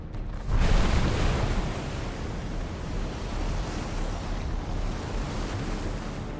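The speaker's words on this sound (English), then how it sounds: "Now water is pouring over the top of the dam." Water pours over the top of a dam during a deadly flood, heard as a loud, steady broadband rush that swells suddenly near the start and then holds.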